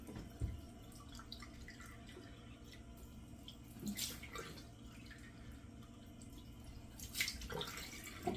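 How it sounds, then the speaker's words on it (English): Water runs steadily from a sink tap with a continuous hiss, interrupted by a few brief splashes and clatters nearby. "now it's time to turn on the sink, run the cold water"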